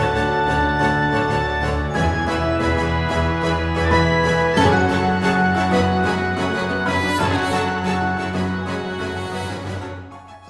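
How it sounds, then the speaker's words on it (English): A composer's demo of Genshin Impact orchestral music plays as a full, sustained ensemble with steady rhythmic pulses and rich harmony, loud and continuous throughout. "Quite often, they'll send a demo of the music"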